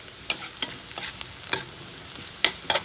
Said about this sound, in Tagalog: Hintayin lang natin muna na pumula-pula yung ating kabuti, yung ating garlic and onion.